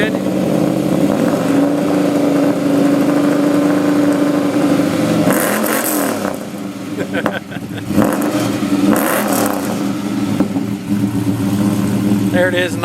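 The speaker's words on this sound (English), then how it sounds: "There it is, nice idle sound." A truck fitted with a new 3 inch exhaust idles loudly and steadily up close, with a couple of brief revs blipping over the continuous rumble.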